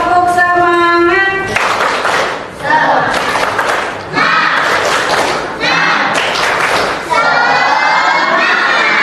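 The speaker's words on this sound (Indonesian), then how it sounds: "Tepuk semangat." A classroom of children shouts a spirit chant together in loud, rhythmic bursts, with claps and thumps mixed into the group voices, close and energetic throughout.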